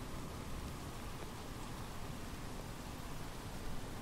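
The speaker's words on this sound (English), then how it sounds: "The rain on the glass." Rain patters steadily on the cockpit glass of an aircraft, heard as a dense, even hiss of drops that stays constant and fills the whole moment without a break.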